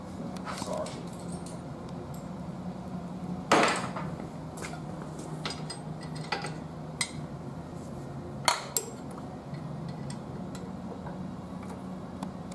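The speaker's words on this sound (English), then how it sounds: "What I do is undo the 3 Allen head bolts to loosen the coupling." An Allen key works loose three Allen head bolts on a rotary valve coupling, giving scattered small metallic ticks and clicks over a low room hum, close and fairly quiet.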